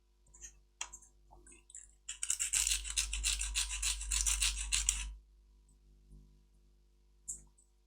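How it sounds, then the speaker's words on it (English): A sanding stick rasps gently across a small plastic model part in short scratchy strokes, a dense burst of quick rubbing in the middle between scattered light clicks and taps, close and quiet. "we can just use a sanding stick to gently"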